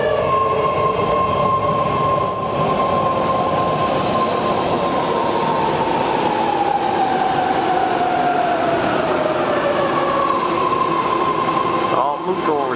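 A BART train with an A car arrives at a station, a loud, steady electric whine that slowly falls in pitch under the rolling rumble, with wheel squeal near the end.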